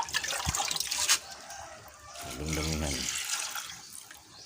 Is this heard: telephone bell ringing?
no